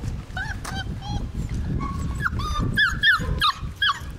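Beagle puppies whimper and yip in high, wavering cries, building to a cluster of short sharp barks toward the end, close by over a low rumbling background.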